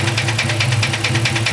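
A car engine that blew up during a burnout knocks with a steady, rapid, heavy rhythm, loud and close, with no talking.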